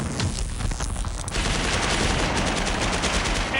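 Sustained automatic gunfire rattles continuously in a PC shooter game, dense rapid bursts filling the whole stretch at a steady loud level, with a sharper shift in texture about a third of the way in.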